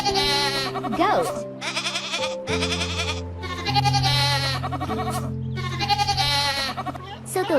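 A goat bleats repeatedly in loud, quavering, nasal cries, several in a row with brief gaps, over a steady sustained musical backing.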